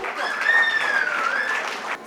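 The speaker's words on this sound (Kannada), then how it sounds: "ಚಪ್ಪಾಳೆಗಳು ಇನ್ನೂ ಜೋರಾಗಿ ಬರಲಿ" An audience at a tenth-anniversary closing ceremony applauds a first-prize winner of a memory test; the clapping is a dense, even patter lasting about two seconds, with a thin tonal sound running over it.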